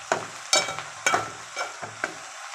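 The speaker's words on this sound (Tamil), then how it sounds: "ஸோ இந்த மிளகாத்தூள் இந்த எண்ணெயிலே கொஞ்சம் நல்லா வதங்கணும்." Chili powder sautéing in oil in a pan beside greens for a kara kulambu, with repeated stirring scrapes and soft sizzling bursts roughly every half second, close up and with no talk.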